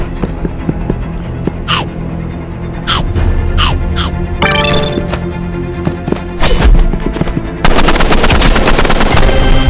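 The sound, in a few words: automatic gunfire in Roblox Rivals video game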